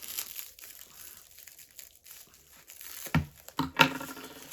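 A flat black parcel package being opened up close, with soft rustling wrapping at first, then sharper, louder crinkling and tearing of plastic toward the end.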